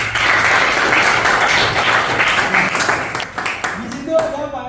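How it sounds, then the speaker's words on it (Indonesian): A classroom of students claps in a steady, dense round of applause during a mathematics lesson, the clapping fading into scattered claps and voices toward the end. "beri aplaus dulu"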